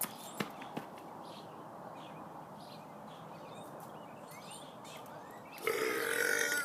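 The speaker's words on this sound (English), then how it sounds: "there's the burp once" A single loud human burp erupts near the end after a stretch of steady background hiss, with a couple of faint knocks early on and no talk.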